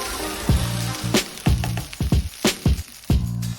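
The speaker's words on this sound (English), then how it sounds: "Add the rice in batches so that you have enough space to mix gently yet thoroughly" Cooked rice for egg fried rice stir-fried and tossed in a hot pan, with repeated sharp spatula scrapes and knocks over a steady background sizzle.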